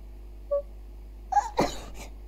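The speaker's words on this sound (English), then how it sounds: "That was a weird sneeze." A single sneeze, brief and fairly close, preceded by a faint squeak and a short breathy intake in an otherwise quiet room.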